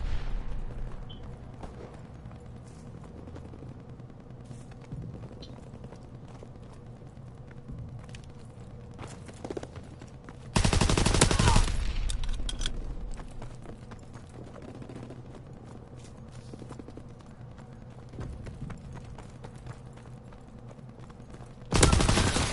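Bursts of gunfire crackle in a PS4 shooter, mostly distant and moderate, with a louder close volley midway and another at the end.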